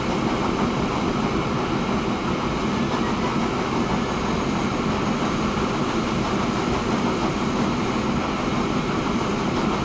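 A train in the video game Transport Fever rolls along with a steady, dense rumble and faint rhythmic clatter, held at a constant level throughout with no talk.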